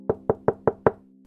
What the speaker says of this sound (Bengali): নানির বাড়িটির দরজার সামনে দাঁড়িয়ে দরজায় নক করলাম।